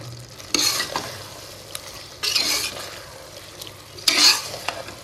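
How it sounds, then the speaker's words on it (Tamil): A spoon scrapes through a pot of spicy dried fish curry, karuvadu kuzhambu, in three separate stirring strokes. A faint simmering sizzle sits beneath, with no talking. "இப்போ இதை வந்து நம்ம நல்லா கிளறிடுவோம்"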